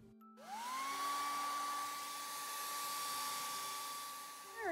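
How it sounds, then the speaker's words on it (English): A hair dryer switches on and runs steadily over a wet watercolour painting of a cardinal, its motor whine rising to a constant pitch after a brief start-up, moderately near and alone, with a slight shift at the end. "blow dry this quickly here."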